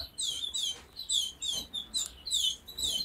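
Young canary and goldfinch mule chicks cheep in a bird shed, a rapid run of thin, high chirps in short bursts, close and fairly quiet, with no talking.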